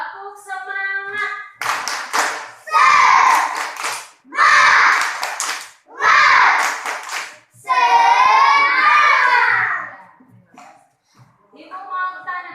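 Schoolchildren in a classroom do a rhythmic spirit clap, bursts of quick patterned clapping mixed with their chanting voices, loud and close, set between short spoken lines from the teacher and the children.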